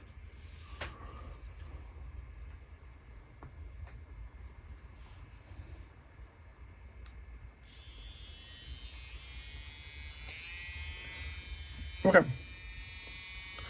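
A small grinder whines with a high buzzing tone while grinding during a Samsung Galaxy S21 FE phone repair, starting partway through and holding steady, faint under a brief spoken word.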